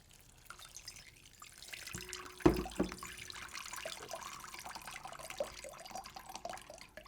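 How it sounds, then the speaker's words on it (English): Water runs and splashes softly over sprouting seeds and beans, starting as a brief gush and then settling into a faint, continuous trickle with scattered drips, quiet and close. "So only thing we need to do today is just give everything a rinse."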